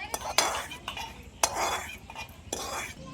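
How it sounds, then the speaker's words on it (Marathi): Roasted peanuts are tipped and scraped from a pan onto a plate in a home kitchen, giving three sharp clattering bursts of nuts and metal against a quiet background. "आता काढून घेतो एका प्लेटीत मी शेंगदाणे."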